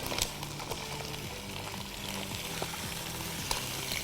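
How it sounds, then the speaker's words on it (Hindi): Chicken goes into a pan of golden-brown fried onions and garlic, making a steady, close sizzle with faint stirring scrapes and small crackles throughout. "अब इसमें हम चिकन डाल देंगे, ठीक है।"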